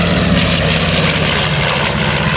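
A B-25 Mitchell propeller bomber flies past at an airshow, its radial engines giving a loud, steady, rumbling drone that holds without a break from start to finish.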